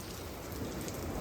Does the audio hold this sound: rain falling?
yes